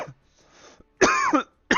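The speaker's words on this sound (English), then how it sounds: "Nah, I just got this cough." A person coughs, with a short harsh rasp followed by a louder, throaty cough and the start of another, close to the microphone.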